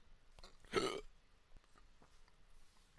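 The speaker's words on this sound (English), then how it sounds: "I got hiccups" A single sharp hiccup bursts out once, loud and close, during a casual recording session among friends, with faint room noise before and after.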